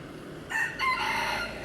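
A single rooster crow rings out clearly and fairly close, rising and then holding over quiet background noise.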